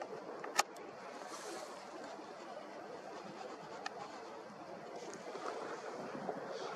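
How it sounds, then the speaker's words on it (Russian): Gusty wind over Kharkiv at night buffets the microphone in low rumbling bursts, with a few sharp clicks scattered throughout; fairly quiet overall and no talking. "Очень сильный ветер"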